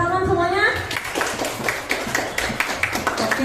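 Children in a classroom clap their hands in a burst of rhythmic taps, fairly close, with kids' voices chattering over and around the clapping.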